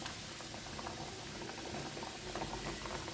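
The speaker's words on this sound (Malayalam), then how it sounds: "ഒരു നല്ലോണം തിളച്ച് കഴിഞ്ഞാൽ വെല്ലം ഇടുക" Water boils steadily in a pot for kozhukatta, a dense, constant bubbling and hissing with no voices.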